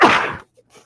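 A single sharp sneeze bursts out close and loud, fading quickly into near silence with a faint trailing breath.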